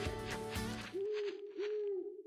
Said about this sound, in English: We heard the owl.